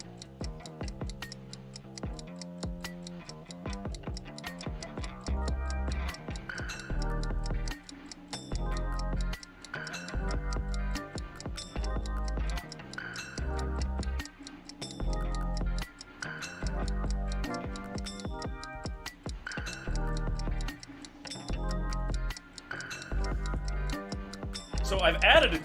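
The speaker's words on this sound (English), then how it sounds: "So I've added a ticking sound to the show, and boy is it stressful." Steady ticking like a clock, added as a stressful countdown during a live art battle show, with an even rhythm running under music and a voice talking throughout.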